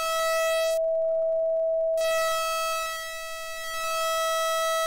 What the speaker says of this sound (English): how many waveforms with a sine wave you know that you can really chop up